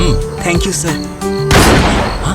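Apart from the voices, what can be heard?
gunshot fired in a building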